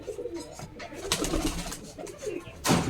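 Rajshahi Giribaj pigeons coo close by in soft, low, rolling calls, a few overlapping phrases broken by a sharper flutter or rustle near the end.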